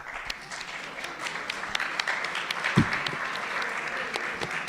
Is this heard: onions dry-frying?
no